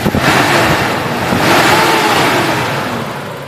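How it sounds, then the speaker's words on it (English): A Nissan Skyline R31 wagon engine idles after already running, its viscous cooling fan whooshing constantly in a broad, steady roar close by. "Quite a fair bit of fan noise because she's already been running, so the viscous fan's constantly going to cool the engine"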